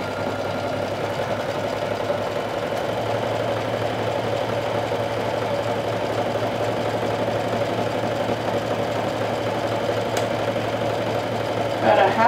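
A sewing machine stitches a triple stretch stitch along a half-inch seam allowance, giving a steady, fairly loud mechanical hum that runs unbroken from start to finish.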